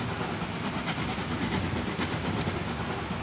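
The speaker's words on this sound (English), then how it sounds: "Those trains are quite loud, chugging away down there." Trains in the railway simulation game Transport Fever 2 give a continuous loud rumble and clatter with a hissing wash, heard alone without voices.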